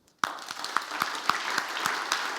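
An audience at a conference panel and closing session breaks into applause that starts suddenly. The clapping is steady and dense, with a few sharper individual claps standing out over the following two seconds.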